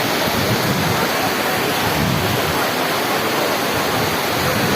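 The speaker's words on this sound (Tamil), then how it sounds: "இது பார்த்திங்களா, அங்கே பார்த்திங்களா ஃபால்ஸை பார்த்திங்களா மேலே" A waterfall where people bathe, a constant loud roaring rush of falling water filling the scene evenly from start to end, with no distinct voices standing out.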